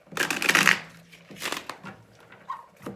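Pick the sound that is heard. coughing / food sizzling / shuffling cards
shuffling cards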